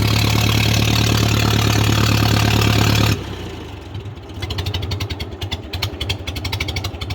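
A 1955 Ferguson TO 35 tractor engine runs loud and close with a steady buzzing idle, then abruptly drops in pitch and level and keeps chugging unevenly instead of shutting off.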